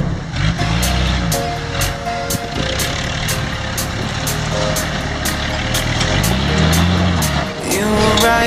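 A four-wheel drive vehicle with locked hubs drives near Waroona Dam, its engine a steady loud rumble rising and falling with throttle, with rattles and clunks throughout.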